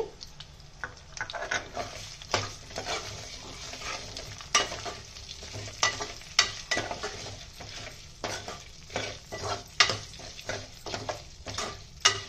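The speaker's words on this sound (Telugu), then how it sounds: "ఇప్పుడు దీనిలో మనం తుడిచిపెట్టుకు ఉంచుకున్న కందిపప్పుని వేసేసి బాగా వేపుకుందామండి." Toor dal frying with onions in a pan, a low continuous sizzle broken by frequent irregular scrapes and taps of a spatula stirring against the pan; no talk.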